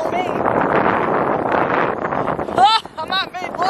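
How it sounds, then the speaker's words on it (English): Gusty wind on a street in Deep Ellum, Dallas, buffets the microphone in rough, rushing bursts while a voice speaks over it, loud and close. "it's a pretty windy day in Deep Ellum"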